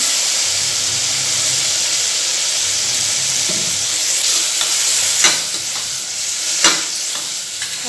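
Mushroom biryani masala with a couple of spoons of curd sizzles and hisses loudly in a pan while a spoon stirs it, with occasional sharp scraping clinks toward the end, close up and continuous.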